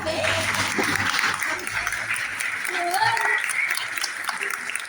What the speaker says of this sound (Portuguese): uma salva de palmas aqui também